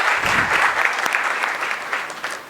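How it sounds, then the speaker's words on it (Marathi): Steady, full applause from a large audience at a 2023 Marathi poetry event, the clapping continuing without a break and without talk, with only a slight dip near the end. "टाळ्या वाजवल्या पाहिजे"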